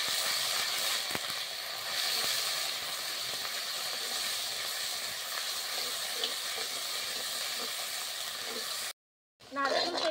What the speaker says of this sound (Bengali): আমি যে বেটে রাখলাম সিকাকাই, রিঠা আর আমলা, এই বাটাটা আমি এই তেলের মধ্যে দিয়ে দিচ্ছি